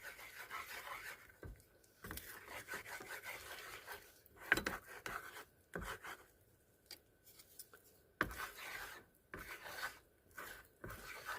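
Eggs cooking in a pan are stirred and pulled toward the middle, giving a quiet run of scraping, rubbing strokes with a few sharper taps of the utensil against the pan.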